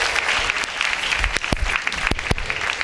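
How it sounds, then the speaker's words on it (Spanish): A church congregation bursts into loud, steady applause for Jesus Christ, with dense clapping filling the space for a few seconds. "denle un fuerte aplauso al Señor Jesucristo"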